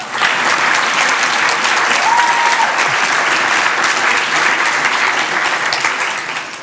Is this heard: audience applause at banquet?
yes